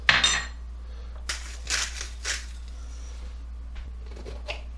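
Sun-dried tomatoes and dates dropped into a food processor bowl, a few light clinks and clatters spaced apart over a low steady hum, close and fairly quiet.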